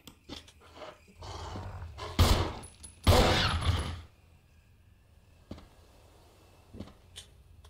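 Gunfire in the Resident Evil video game, two loud, close bursts of shots followed by a few sharp, isolated clicks and impacts against a quiet background, with no talking.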